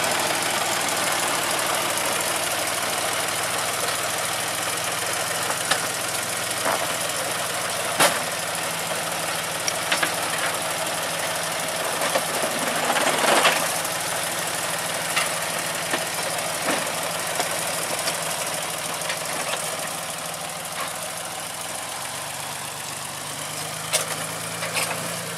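Diesel locomotive engine running steadily as it heads into a field to fetch sugarcane-laden lorry wagons, a constant rumbling idle throughout with occasional faint clanks and knocks, no talking.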